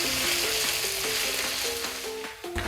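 Cumin and ginger fry over low heat, a steady close sizzle with soft spoon stirs through it and no voices.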